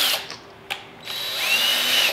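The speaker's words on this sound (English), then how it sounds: "this is the actual sandpaper. It's going to go into your drill" An electric drill fitted with a sanding pad for headlight restoration, giving brief whirring bursts before a steady high motor whine that runs on, close and loud.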